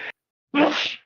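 A single close sneeze bursts out sharply after a brief intake sound, then fades within half a second in a quiet room.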